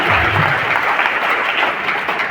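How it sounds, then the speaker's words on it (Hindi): A seminar audience applauding themselves at a motivational talk, a loud, thick wash of many hands clapping steadily for a couple of seconds in a hall, with no voices over it. "एक बार और अपने लिए तालियां मारिए दोस्त।"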